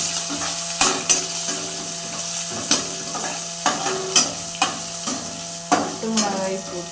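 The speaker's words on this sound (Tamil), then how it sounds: "கட் பண்ணி வச்சுருக்கிற பச்சை மிளகாய் போடுறேன்." Cut green chillies sizzle and fry in hot oil in a pan, with repeated metallic stirring scrapes of a spatula against the pan at a steady rhythm, close and fairly loud.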